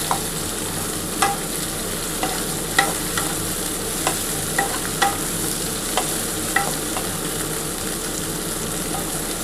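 Sliced spiny gourd frying in oil while being stirred in a pan, giving a continuous sizzle with soft, regularly spaced scraping clicks from the spatula.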